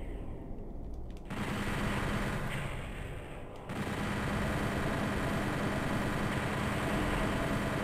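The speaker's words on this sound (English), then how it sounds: "I'm switching to the chain gun." Rapid, continuous chain gun fire in the video game Doom 64, a loud dense rattling stream that briefly drops out near the one-second mark and again around three seconds, then carries on steadily to the end.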